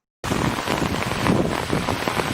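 Rain falls on grass and leaves, starting abruptly after a moment of silence and continuing as a steady, fairly close patter and hiss of drops.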